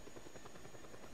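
A helicopter in the video game Just Cause 2 gives a steady, dense rotor drone that holds at an even level for about a second, with no voices over it.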